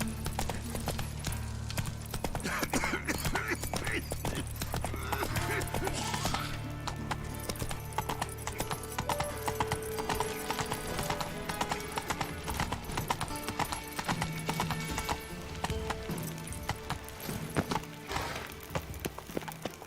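Horse hooves gallop in the video game Witcher 3 in a continuous rhythmic clip-clop that lasts throughout, mixed with game music and ambient sound.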